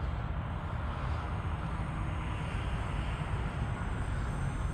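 An E-flite P-51D Mustang model plane comes in to land on a winter day, giving a steady, fairly loud drone and rush that holds an even level throughout, with no talking.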